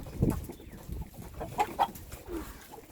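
Soft chicken clucks come in a few short bursts amid quiet background rustle, fairly close but faint.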